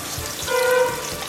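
Carrots and raisins frying in ghee in a pan for a one-pot pulao, a steady close sizzle that swells briefly in the middle, with no voices.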